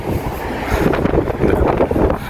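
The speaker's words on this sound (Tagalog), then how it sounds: "Ang lakas ng hangin." Strong wind buffets an outdoor microphone while riding a bike on a quiet Sunday road in Japan, a loud, continuous low rumble with gusty swells and no talking.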